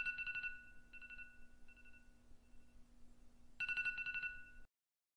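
An iPhone alarm ringtone plays at reduced volume, a bright repeating chime heard in two louder bursts with a quieter stretch between, with no talking.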